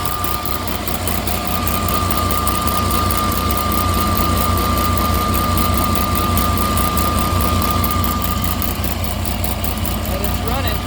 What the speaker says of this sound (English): take a look at the generator.